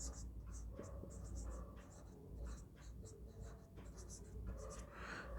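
Chalk or a marker writes on a classroom board in short scratchy strokes, quiet and close, while a teacher talks over it in a low voice.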